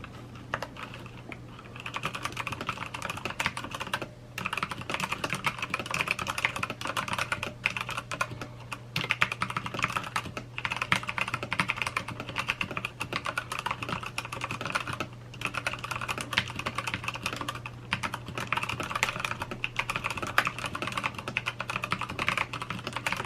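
Steady, continuous typing on a Redragon Devarajas mechanical keyboard with brown switches, close up, a dense patter of key presses over a low background hum.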